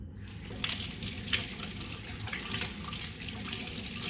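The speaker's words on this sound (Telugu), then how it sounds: "నేను జస్ట్ ఇట్లా వాటర్ వేసి కడుక్కుంటాను." Tap water running steadily into a sink while a copper puja vessel is washed, starting after a short silence and continuing as a close, even gush with light splashing and clinks.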